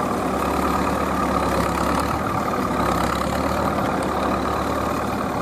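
Vintage Fiat tractor engine (a 55C or 70R) at an agricultural ploughing festival, a steady, loud, low rumbling drone that holds constant and close throughout, with no talk over it.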